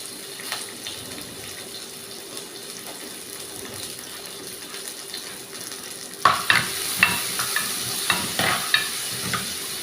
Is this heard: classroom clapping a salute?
no